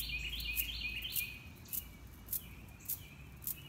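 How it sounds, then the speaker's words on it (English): Faint high bird chirps trill in the background of an indoor yoga session, over low room noise and a few soft jingling clicks from bracelets. "I got the birds chirping"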